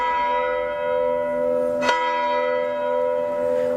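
Church bells ring in the eighteenth-century bell turret of the church at Le Luc in Provence, a sustained, sonorous tone with a single struck accent midway and long resonant decay.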